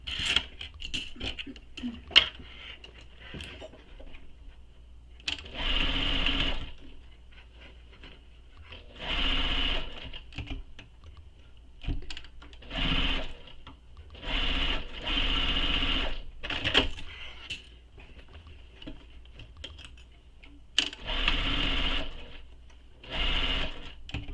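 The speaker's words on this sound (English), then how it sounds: "we'll sew these with the seam allowance given in the pattern" Sewing machine running a seam on a fabric bag in a series of separate bursts with quiet gaps between, close and fairly loud, with no voices.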